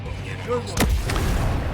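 A grenade in Ghost Recon Breakpoint detonates in one sharp, loud blast that rolls off into a short rumble, preceded by quieter background game sounds.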